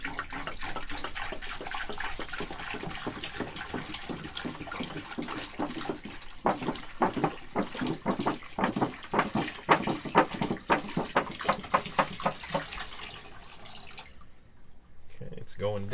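A gallon of water pours into the fresh-water tank of a NuCamp 400 camper, a steady rushing stream that turns into rapid, uneven glugging bursts before it trails off into quiet.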